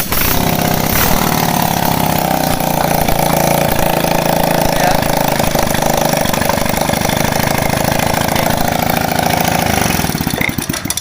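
A Yamaha Vega or Jupiter Z motorcycle engine runs steadily and loudly after a kick-start repair, a close, continuous idling drone lasting nearly the whole stretch before it begins to fade at the end.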